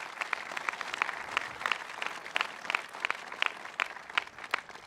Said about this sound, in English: Let's give our governor another great big round of applause